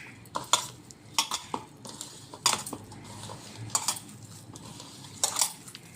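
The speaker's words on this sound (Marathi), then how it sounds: "हे सगळं आपण यामध्ये आता मिक्स करून घ्यायचं आहे" A spoon stirs peanuts and other fasting pakoda ingredients together in a bowl, making close, irregular metallic clinks and scrapes in short bursts over a soft background hiss.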